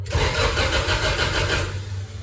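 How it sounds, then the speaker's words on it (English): A mid-engine Honda CRX turbo with an F20B engine cranks from a starter button. The starter gives a close, rapid whirring churn for about two seconds, then the sound drops away. "it's the starting button, so that's what cranks it"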